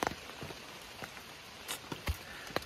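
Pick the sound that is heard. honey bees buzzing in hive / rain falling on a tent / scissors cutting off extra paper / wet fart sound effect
rain falling on a tent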